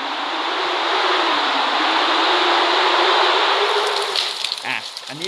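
Continuous breathy rush of wind from a meditation app's wind track, steady and fairly loud, easing slightly toward the end with faint crackles.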